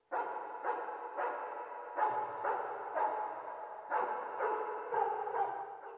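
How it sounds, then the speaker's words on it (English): Several dogs barking in Five Nights at Freddy's, repeated sharp barks at roughly one-second intervals, moderately loud and alone with no talk. "During the night, many sounds can be heard. From dogs barking"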